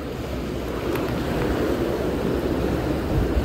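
Steady low rumble of a fishing boat named Bharat Mata coming closer across the sea off Mumbai, mixed with continuous wind and wave wash, fairly loud and unbroken with no talk.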